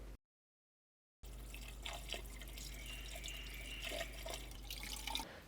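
Steady trickling of pre-mixed coolant poured continuously into a car's cooling system, with a few faint drips and splashes, fairly quiet and close, no voices.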